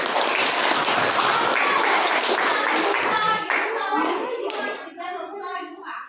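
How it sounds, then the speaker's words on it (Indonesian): A class of children in an Indonesian primary lesson on simple electric circuits claps together in a dense, loud burst that thins after a few seconds as an adult voice starts talking. "ya, tepuk tangan semuanya."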